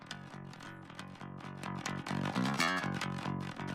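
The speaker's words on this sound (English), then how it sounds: "I'll just grab a distortion, whatever distortion it happens to be." A metal bass line played through a distortion plugin gives dense, gritty sustained notes in a driving riff that grows louder partway through, with no voices.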